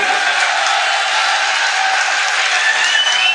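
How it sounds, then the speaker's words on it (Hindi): A large crowd at a political rally bursts into sustained, loud applause, a dense continuous clapping that fills the whole moment with faint cheering mixed in. "पीछे तक जोरदार ताली बजनी चाहिए"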